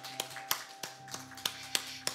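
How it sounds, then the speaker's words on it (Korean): Slow, sparse claps from a church congregation during a morning worship service, about eight distinct sharp hits in an uneven rhythm over a faint steady hum. "오늘도 우리의 생명과 소망 되신 주님께 우리 모두 영광의 박수를 올려드리겠습니다."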